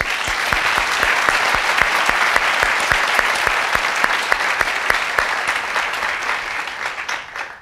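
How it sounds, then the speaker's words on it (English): At an MBA speaker series event, an audience gives a sustained welcoming round of applause, dense clapping that holds steady and fades slightly at the end. "why don't you everybody give us a welcoming round of applause"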